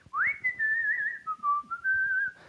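A man leaning against the back of a cart whistles a short signal tune, a rising note held and wavering, then a slightly lower sustained phrase, clear and nearby over faint background clatter.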